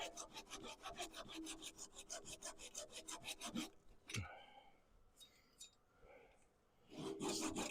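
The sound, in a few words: hand saw cutting wood sideways to the grain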